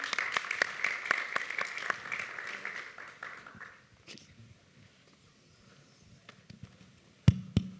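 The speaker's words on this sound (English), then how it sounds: "So big applause for them." Audience clapping for a few seconds, then fading out into a quiet room with scattered small knocks and a sudden thump near the end.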